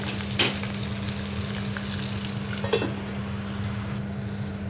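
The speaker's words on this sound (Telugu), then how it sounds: "మంచిగా వేయించుకోవాలి ఎర్రగా చిన్న చిన్నగా ఉన్న లేత దొండకాయలు ఇవి ఇవి వేగుతూ ఉంటాయి" Small tender ivy gourds fry in a pan with a steady, close sizzle and crackle, a few sharper pops and stirring scrapes rising over the continuous frying hiss; no one speaks.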